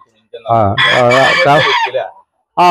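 A fancy-breed rooster, such as a Silkie, crows loudly and close by in one long drawn-out call, then starts another crow right after a brief pause.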